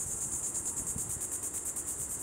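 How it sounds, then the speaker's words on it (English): Cicadas buzz steadily from the trees in a Daytona Beach, Florida cemetery, a continuous high pulsing drone that fills the daytime air at moderate loudness with no voices. "Can you hear the cicadas in the trees?"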